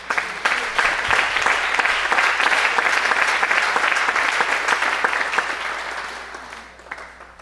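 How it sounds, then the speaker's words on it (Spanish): A church congregation breaks into sustained applause, dense and loud for several seconds before tapering off toward the end. "Denle un aplauso al Señor."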